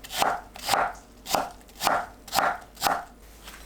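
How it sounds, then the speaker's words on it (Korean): A knife slices an apple into thin julienne strips on a cutting board for an onion salad, six crisp, evenly spaced chops close up with no talk. "사과를 채 썰어 준비합니다."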